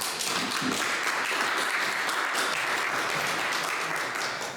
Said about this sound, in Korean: 한번 박수 한번 쳐주시죠.